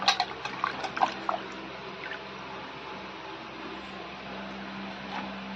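Water trickles and splashes briefly while an item is rinsed for a Durga puja offering, with a few close dribbles at the start that fade into quiet room hum.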